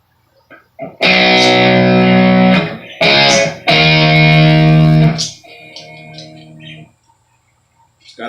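An electric guitar with a Filtertron pickup through a delay, played through a Marshall Code 25 amp, rings out in loud distorted chords with short gaps, then softer echoing repeats trailing off.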